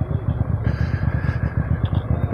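A QJ Motor SRV300 motorcycle at Cabo da Roca, its engine running nearby with a steady, pulsing low thrum at an even rhythm, heard alone.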